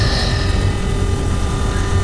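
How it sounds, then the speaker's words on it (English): Helicopter in the naval combat game Modern Warships, a steady whirring rotor and engine drone with faint rhythmic chopping, heard continuously at moderate loudness with no talking. "We don't have any anti-air to wipe out the helicopter though."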